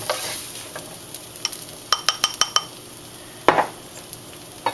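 Eggs scrambled in a wok while frying fried rice, a soft sizzle broken by a run of sharp spatula clicks and scrapes against the metal. No one speaks.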